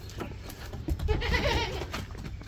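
A horned senior goat in a village livestock pen gives a single loud, wavering bleat, close by, with faint background noise around it.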